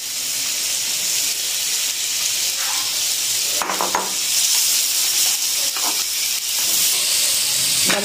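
Carrots stirred into a potato and chicken filling frying in a pan, a loud steady sizzling hiss throughout with a few scraping stirs and clinks near the middle, close up and without talk.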